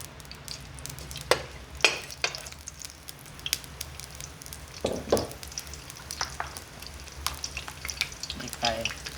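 Garlic frying in oil in a pan, a steady close sizzle with crackling pops and occasional stirring scrapes, some louder spits scattered through.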